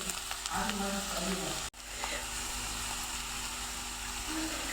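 Misal masala with coriander sizzles as it is sautéed in a pan, a soft continuous frying crackle with a brief interruption partway through.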